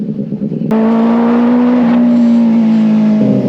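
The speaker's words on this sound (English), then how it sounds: "what I'm riding today is actually a custom Benelli" A loud custom Benelli motorcycle engine idles then revs with a sudden jump in pitch, holding a steady, throaty drone close up.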